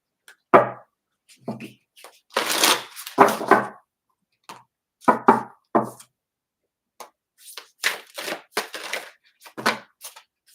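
Oracle cards being shuffled and handled in bursts of crisp riffling and slapping, close and fairly loud, separated by short silences, no talking.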